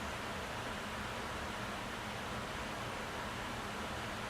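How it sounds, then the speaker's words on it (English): An electric fan hums steadily in a hot garage, a constant broadband whoosh that holds an even level throughout with no talking over it. "You might hear the fan humming"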